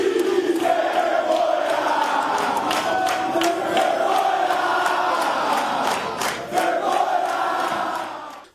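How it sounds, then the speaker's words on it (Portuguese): A football stadium crowd protests after the final whistle of a goalless match, a loud, sustained roar of massed voices with chanting swells and shouts that fade out at the end. "Descontente com a atuação da equipe, a torcida não aliviou após o apito final."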